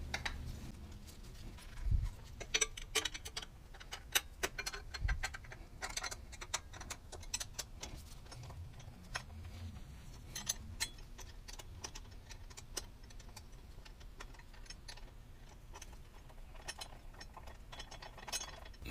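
A ratchet loosening the lower pinch bolts on a Honda Goldwing front wheel, making faint, rapid clicking bursts that repeat in short runs with brief pauses between them.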